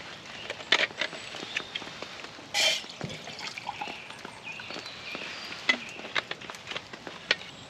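After rain stops in the woods, scattered water drips and patters land irregularly around, some sharp and close, others faint, over a quiet outdoor background.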